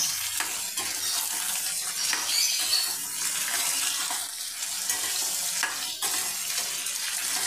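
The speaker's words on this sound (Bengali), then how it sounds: "পেঁয়াজ, লঙ্কা আর চিংড়ি মাছটা আমি হালকা করে একটু ভেজে নেব।" Prawns with onion and chilli frying lightly in a pan for a Bengali onion-prawn dish, giving a steady, close hiss of sizzling oil with occasional stirring scrapes and no talk throughout.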